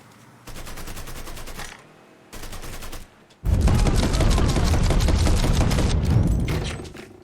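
Gunfire in the video game Mafia III Definitive Edition comes as two short rattling bursts, followed by a long, heavy, dense fusillade of rapid automatic shots that fills the rest of the clip.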